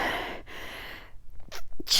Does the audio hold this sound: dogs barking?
no